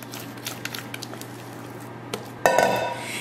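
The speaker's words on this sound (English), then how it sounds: "I'm going to add my mixture to my sprayed baking dish." Casserole mixture goes into a sprayed baking dish, soft faint scrapes and light taps of a utensil against the dish, followed by a louder, wetter squelching plop near the end.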